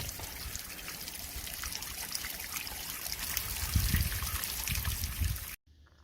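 Antifreeze trickles and splashes steadily from an RV plumbing drain, a close, continuous pouring sound that swells slightly before stopping abruptly.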